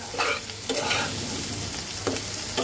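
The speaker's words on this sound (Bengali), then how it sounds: "আমি 2-1 মিনিট মশলাটাকে তেলের মধ্যে ভেজে নিলাম" Spices such as turmeric and coriander powder fry in oil on a low flame for a hilsa fish curry with potatoes. The sizzle is close and bubbling, with short bursts as the mixture is stirred.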